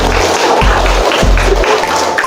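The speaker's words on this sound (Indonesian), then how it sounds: "Tepuk tangan dulu buat Fatia" A classroom of students claps for a classmate named Fatia, giving a short, steady burst of hand claps that stays loud and even throughout.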